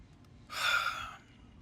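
A single breathy yawn lasting about half a second, close and quiet, alone with no talk.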